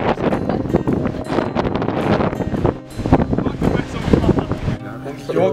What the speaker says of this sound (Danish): Det blæser utrolig meget i dag.